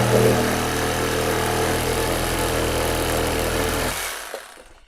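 Procraft Industrial RS20A cordless reciprocating saw cutting steadily at close range, a loud continuous buzzing drone that holds for about four seconds before cutting off and trailing into quiet.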